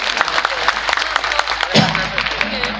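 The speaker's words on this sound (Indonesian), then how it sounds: "tepuk tangan buat Pak Dewan" A crowd at a large religious gathering applauds the council chairman, a dense, continuous wash of clapping mixed with cheering voices throughout.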